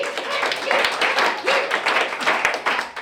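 An audience applauds a ventriloquist's puppet named Freddy at a comedy show, bursts of clapping rising and falling in uneven waves, fairly close, with some voices mixed in.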